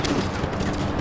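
Dense, rumbling gunfire and blasts in Just Cause 3, a continuous loud burst of overlapping shots lasting about a second.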